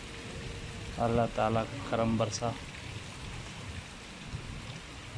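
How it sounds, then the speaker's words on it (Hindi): Heavy rain pours steadily during a wind storm over mud-walled village houses, a constant wash of noise, while someone speaks briefly over it near the start. "और शदीद और तेज़ बारिश होने लगी।"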